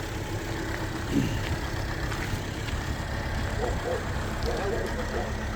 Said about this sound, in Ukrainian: І продемонструємо зараз, як працює вишка